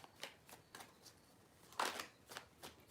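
Tarot cards shuffled by hand in a few quick riffling bursts, soft and close, with one louder sweep of cards partway through and no talking.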